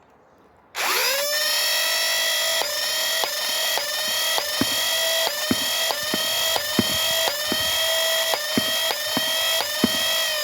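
A motorized Nerf blaster spins up abruptly and runs with a loud high-pitched whine, flywheel pitch dipping briefly again and again as Worker Gen 3 darts are fired in quick succession, close to the microphone.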